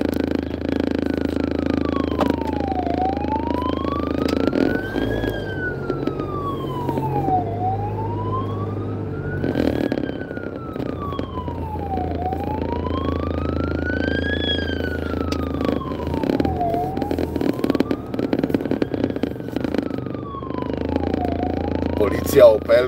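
A police siren on an Opel wails in regular rising and falling sweeps over steady road and engine noise, heard from inside a vehicle, with someone talking over it at times.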